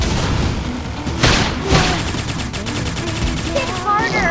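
A flame grenade goes off during a Xenoblade Chronicles X battle, part of a loud dense barrage of blasts and impacts, with a couple of sharp booms standing out and a voice cry near the end.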